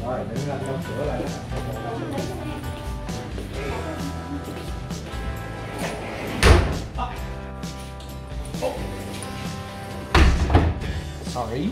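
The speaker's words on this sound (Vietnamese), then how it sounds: "để anh đóng cửa lại" A door is pulled shut, landing as two dull thuds several seconds apart. People talk over steady background music throughout.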